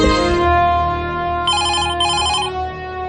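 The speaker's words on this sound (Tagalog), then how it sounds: "bibagting ang telepono" Telephone ringing loudly and close in an indoor drama scene, a sustained electronic tone under a low musical bed, with two clear ring bursts breaking in partway through.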